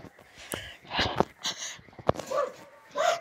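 Dogs bark and whimper in short, irregular bursts: sharp yips and barks mixed with higher whines, close and fairly loud, scattered over a few seconds.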